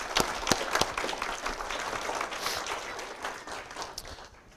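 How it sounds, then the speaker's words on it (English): A school audience applauds trimester merit award winners, a mix of sharp individual claps and a fuller wash of clapping that fades toward the end, fairly close and moderately loud with no talking. "let's give all of our Merit Award winners a round of applause"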